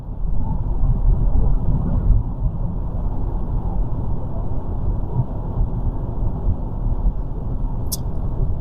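Steady broadband road and engine rumble inside a Hyundai Santa Cruz cabin while driving, a constant loud drone with tire and wind noise and no talking, plus a brief high-pitched chirp near the end.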